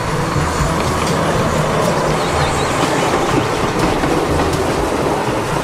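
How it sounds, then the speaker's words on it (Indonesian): Steady, loud rumble of a toy Thomas train running on rails, with rhythmic clacking and faint squeals throughout; no voices. "Ternyata ini ada kereta Thomas."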